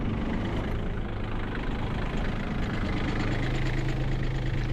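A tractor engine runs steadily on icy ground, a continuous loud low rumble with no change in pace and no voices.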